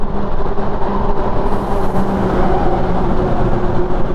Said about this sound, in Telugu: ఓ లారీ